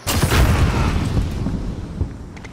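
A grenade explodes in Call of Duty: Modern Warfare, giving one loud, close boom that rolls into a rumbling tail lasting a couple of seconds, with no one talking.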